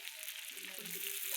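Fish frying on a tawa, a soft steady sizzle in the background with faint tonal sounds rising over it partway through.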